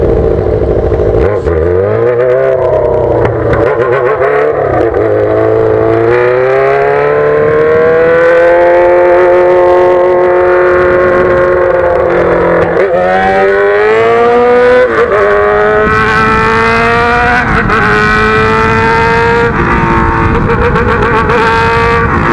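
A Yamaha XJ6 motorcycle with an open straight-through exhaust pipe revs hard and roars continuously, its pitch climbing and dropping through repeated loud throttle blips, very close and alone.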